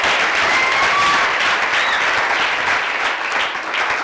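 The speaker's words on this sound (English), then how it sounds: "Please give both schools a loud round of applause." Sustained, dense audience applause fills a hall at a secondary school debate in Edo State, steady and loud from start to finish with no voices over it.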